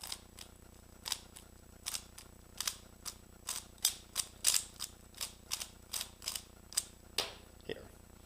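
A Rubik's cube is turned quickly to scramble it, making a rapid series of sharp plastic clicks and clacks, about fifteen distinct turns at an uneven rhythm, close and fairly quiet.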